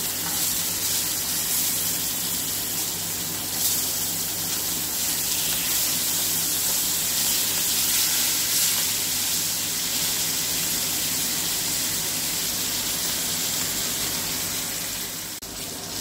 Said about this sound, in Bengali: আমার এক সাইড হয়ে গেছে, আমি উল্টো সাইডটা ভেজে নেব।